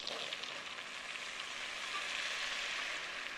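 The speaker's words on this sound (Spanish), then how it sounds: "Removemos con unas varillas durante unos 5 minutos, hasta que veamos que toma un ligero color dorado" Butter and wheat flour roux frying in a saucepan while being whisked, giving a steady, even sizzle with soft crackle that holds at a constant level throughout, close by and with no voices.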